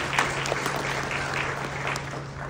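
A conference audience breaks into steady applause, a dense wash of clapping at moderate distance lasting a couple of seconds with no speech over it.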